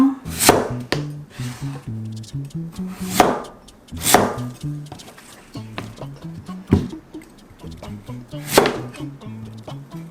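A knife chops radish on a cutting board for a savory pancake, with steady, crisp strikes in an uneven rhythm over soft background music.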